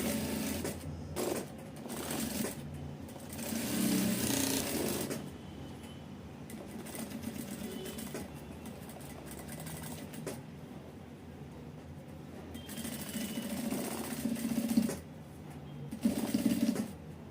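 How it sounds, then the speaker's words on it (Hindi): A sewing machine runs continuously as it stitches a border onto a sleeve, making a steady close mechanical whir that swells slightly in places, with no voices. "हम जो है यहाँ पे कंटिन्यू सिलाई करके ले लेते हैं"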